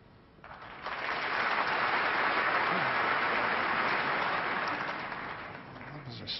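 Spectators at the 2007 Masters snooker final break into applause, a dense wash of clapping that swells quickly after a quiet start, holds steady, then begins to thin toward the end.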